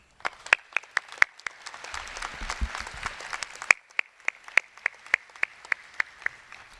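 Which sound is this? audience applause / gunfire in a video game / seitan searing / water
audience applause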